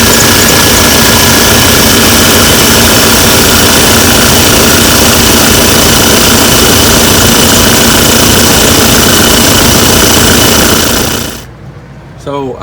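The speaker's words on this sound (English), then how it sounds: "Not gonna do any talking over it because you won't hear me for the running of the engine anyway." A 1990 Chevrolet Silverado with a 350 engine runs loud and steady, a dense droning rumble held for about eleven seconds before it cuts off abruptly, leaving a quiet room and a faint voice.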